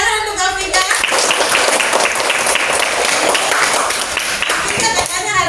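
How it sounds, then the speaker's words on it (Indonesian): A classroom of schoolchildren claps together in a sustained, loud, close burst of applause lasting several seconds, with voices faintly mixed in. "Iya, tepuk tangan untuk Vika."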